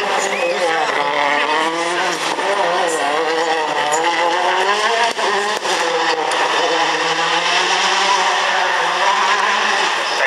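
Dani Sordo's DS3 WRC rally car roars past at high revs, a loud, sweeping engine note with shifting harmonics and gear changes, the engine bending through pitch as it passes, with excited commentary talk over it.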